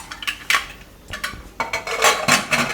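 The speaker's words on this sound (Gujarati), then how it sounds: "કુકરનું ઢાંકણું બંધ કરી દેવું." Metal lid of a pressure cooker sitting on a gas stove clanks and scrapes into place, a close series of sharp metallic knocks and rattles in quick irregular bursts, with no talk.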